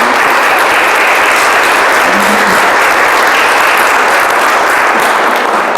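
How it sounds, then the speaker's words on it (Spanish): An audience at Mass applauds birthday celebrants: a dense, steady wash of many hands clapping, loud and unbroken for several seconds with no voices over it. "hay que darles un aplauso a los cumpleañeros"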